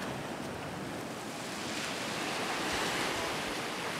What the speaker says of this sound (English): We are at a beach right now.